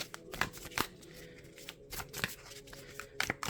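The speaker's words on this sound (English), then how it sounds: "So, that's why I usually just shuffle like this." Close, crisp riffles and slaps of tarot cards being shuffled by hand, in short irregular bursts against a faint hum.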